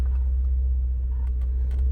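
A 2015 Porsche Macan Turbo creeping forward in a garage, its engine giving a low, steady close-up rumble with no talk.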